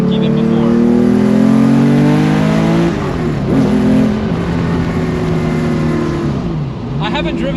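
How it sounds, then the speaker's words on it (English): A Nissan Skyline decelerates with a throaty exhaust burble. The engine note drops from a loud drone, rises briefly, then settles into a steady lower tone, heard close and continuous. "Still gets that cool throaty decel."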